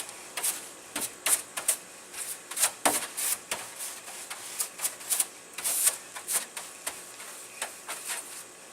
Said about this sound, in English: Clean up all the styrofoam.